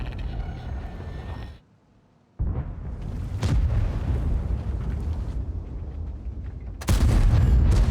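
A tank cannon fires in World of Tanks: a loud close boom after a brief quiet gap, then rumbling battle noise and a second heavy blast near the end.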